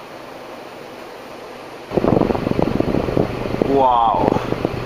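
Large fan on high speed: a steady close whoosh of rushing air, with someone talking over it partway through.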